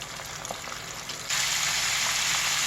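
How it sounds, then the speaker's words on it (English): Chicken wings fry in hot oil with a dense, continuous crackle and sizzle, quieter at first and then jumping to a louder, fuller bubbling roar as more wings go in, close up. "as you can see, it's frying just fine"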